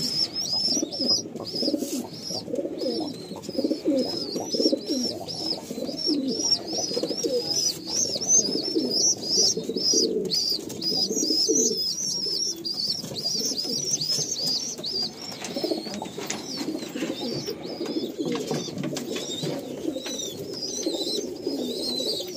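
Pigeons in a loft coo over and over, a dense near chorus of soft throaty calls with chirps and rustles mixed in, steady for the whole stretch.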